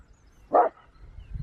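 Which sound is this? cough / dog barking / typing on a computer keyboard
dog barking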